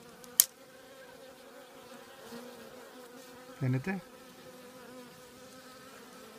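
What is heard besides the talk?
ball of honey bees buzzing outside the hive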